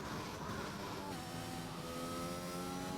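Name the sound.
race car engine revving at Spa in racing video game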